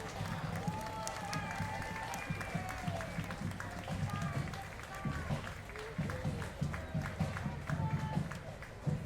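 Spectators lining a Washington, DC Independence Day parade route cheer and clap for a passing group, a moderately loud, uneven crowd roar with scattered claps and voices mixed in.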